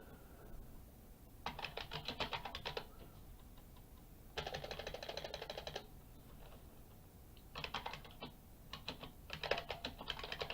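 Bursts of rapid computer keyboard typing, close and fairly quiet, in three or four separate runs of a second or two each with short pauses between, no voices.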